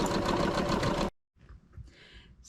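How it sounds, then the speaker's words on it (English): An embroidery machine stitches lettering with a loud, fast, steady mechanical chatter that stops abruptly after about a second. Faint, quiet handling noises follow. "I find that it's a pretty nice embroidery machine"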